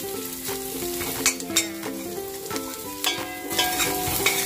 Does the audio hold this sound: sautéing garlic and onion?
yes